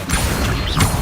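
Cast in Hogwarts Legacy, the Accio summoning charm gives a loud, brief whooshing swipe ending in a crashing clatter, close and punchy.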